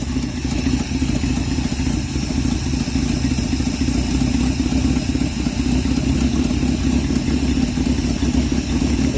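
A 1968 Dodge W200 Power Wagon engine idles steadily and loudly with an exhaust leak, giving a constant, rough, low rumble that holds even throughout with no speech.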